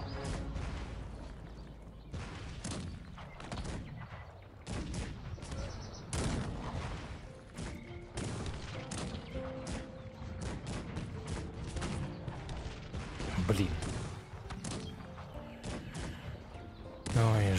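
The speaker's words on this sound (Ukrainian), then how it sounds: "Тут починає стріляти вежа." A defensive tower firing its guns during a siege battle in Cossacks 3, rapid repeated gunfire bursts and crashes continuing throughout over a dense battle din.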